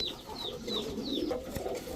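A pair of Baghdadi Huma pigeons coos softly and steadily, low rolling calls close by, with a few faint higher chirps above them.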